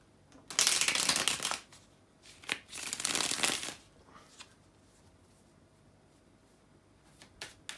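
Tarot cards are shuffled close up in two long riffling bursts, followed by quieter card handling and a few soft taps, with no voices.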